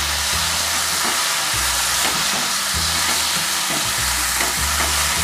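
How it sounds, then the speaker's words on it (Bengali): Potatoes and cauliflower are stir-fried with spices in a pan for a Bengali fish curry, giving a dense, steady sizzle with rhythmic scraping stirs that recur about once a second. "এবারে সব আলু ফুলকপি মশলার সঙ্গে খুব ভালো করে কষিয়ে নিতে হবে"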